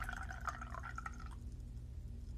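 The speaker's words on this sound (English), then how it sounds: "The first thing you'll do is pour some water into it." Water poured into an essential oil diffuser's reservoir, a close, bright trickling stream lasting just over a second before it stops, leaving a low steady hum.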